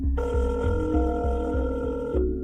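A telephone rings continuously on the line after a number is dialed, with a loud, steady repeating ring tone and no talk over it.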